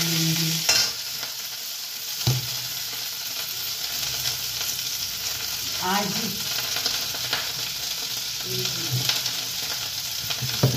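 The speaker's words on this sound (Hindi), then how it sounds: "इसलिए मैं पहले इसको गोभी फ्राई कर लूंगी" Cauliflower frying in a pan, a strong continuous sizzle with occasional knocks and scraping stirs of a utensil, close and steady throughout.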